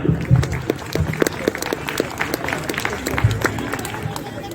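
Audience applause at a Hindi poetry gathering (kavi sammelan) in Kharagpur, a dense steady patter of clapping from a crowd with some voices mixed in, continuing throughout.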